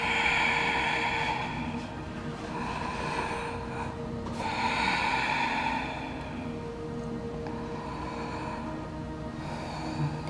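Slow, deep yoga breaths drawn in and out through a vinyasa flow into downward facing dog, with soft airy swells recurring every few seconds over a steady low background rumble.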